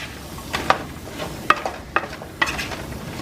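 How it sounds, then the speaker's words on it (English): Vegetables with pepper are tossed in lightly toasted butter over medium heat, a soft low sizzle punctuated by four distinct clinks and scrapes of a utensil against the pan. "So we'll toss this around in this beautiful, lightly toasted butter."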